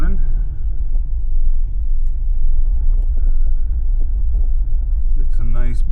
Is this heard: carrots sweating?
no